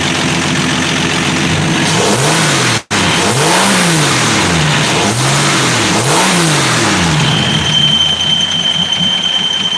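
A 1965 Dodge Dart's 225 cubic inch slant six engine runs loud and close with the throttle held open. It revs up and down in repeated swells, a steady rough hum runs under it, and a brief cut comes early on.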